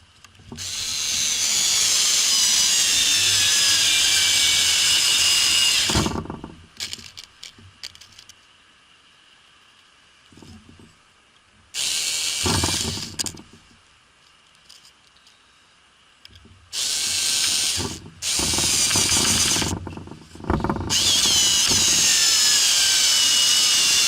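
A Niteo Tools cordless screwdriver drives screws into a metal angle bracket in loud, sustained whirring runs, one long run followed by several shorter bursts with quiet gaps and faint handling clicks between them.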